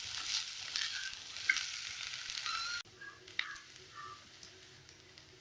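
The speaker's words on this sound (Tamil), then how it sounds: "இப்போ இதுல சேர்த்து கிளறி விட்டுக்கலாம். இப்போ நல்லா கிளறி விட்டுக்கலாம்." Cooked rice being stirred in a hot pan with onions and egg for Tamil egg rice, a close sizzle with scraping and tapping, louder in the first half and quieter after a sudden drop.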